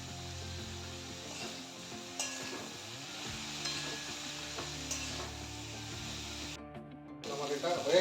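Broccoli fries in a pan with salt and turmeric, giving a continuous soft sizzle with occasional stirring scrapes under someone talking.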